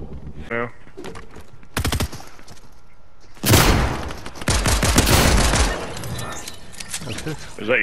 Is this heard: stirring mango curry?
no